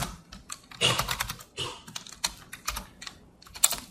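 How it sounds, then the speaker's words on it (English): Someone types on a computer keyboard in irregular bursts of clattering keystrokes with short pauses, close and fairly loud, during a lecture on computational number theory. "I'm really having trouble with this keyboard"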